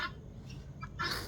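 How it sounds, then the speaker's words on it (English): Turkeys calling in a farmyard with guinea fowl nearby, a couple of short bursts of warbling fowl calls at moderate distance over a low background, no speech. "Look at those silly turkeys."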